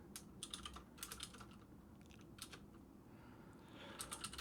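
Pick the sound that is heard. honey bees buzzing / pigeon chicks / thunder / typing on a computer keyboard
typing on a computer keyboard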